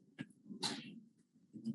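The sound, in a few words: sneeze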